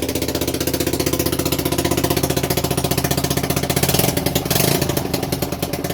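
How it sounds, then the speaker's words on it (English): Honda XL125S motorcycle single-cylinder engine running with a loud mechanical racket from the front end and exhaust, a rapid, steady pulsing chug up close, briefly swelling mid-way, with no talking. "we've got an awful racket coming from the front end and the exhaust"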